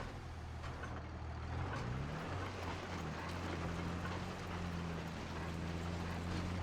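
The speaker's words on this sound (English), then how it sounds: "you're fixing to tell me that this tractor can pull the vertical till?" A 4960 tractor pulls a vertical tillage implement, its engine giving a steady, loud, low drone that shifts up in pitch about two seconds in and then holds, with no voices.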